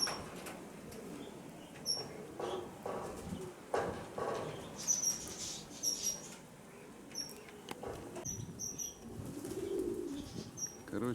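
Mykolaiv pigeons flap their wings in bursts as they take off and fly, with repeated clattering flutters and scattered coos, plus faint outdoor background noise.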